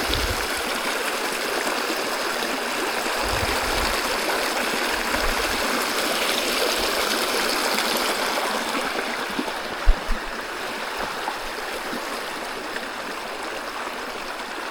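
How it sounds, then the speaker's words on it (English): Creek water of Paddy's River rushing and burbling continuously nearby, a full steady wash of sound with a few faint low thumps. "Obviously, it's a creek."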